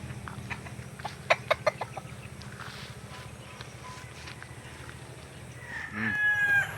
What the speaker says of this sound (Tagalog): Buksan natin yung mga sisiw. Yan, ito na mga sisiw niya.